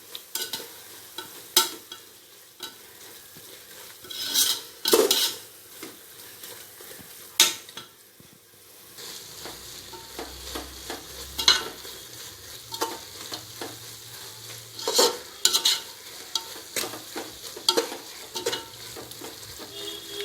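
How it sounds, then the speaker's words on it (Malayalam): Ground tomato is stirred into chicken biryani masala in a pan, with a gentle sizzle throughout and repeated scraping knocks of the spoon against the pan at an uneven rhythm. "ഈ തക്കാളിയുടെ പച്ച ചുവ മാറുന്നത് വരെ നല്ലതുപോലെ ഇളക്കി ചേർക്കാം"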